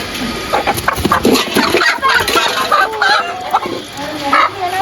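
Hens cluck and squawk close by in a busy, continuous jumble during extreme summer heat, with a few people talking softly underneath.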